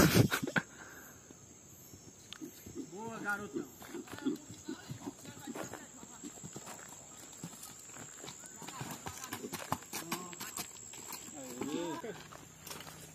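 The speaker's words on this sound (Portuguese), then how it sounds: "tanger o cavalo" Horse hooves clip-clop at a steady walking pace as the animal is driven on a campsite outing in Brazil's Zona da Mata, moderately close, with people talking and laughing over the hoofbeats throughout.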